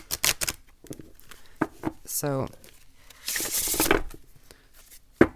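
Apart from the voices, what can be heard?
shuffling a deck of Archeo cards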